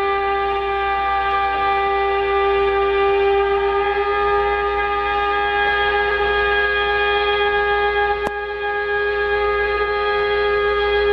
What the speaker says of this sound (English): The air raid sirens blare across the small country